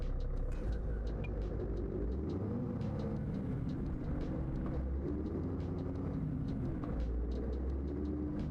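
A Scania Super truck engine in Euro Truck Simulator 2 rumbles steadily and loudly at a low pitch. It drones on without a break the whole time, with no one talking.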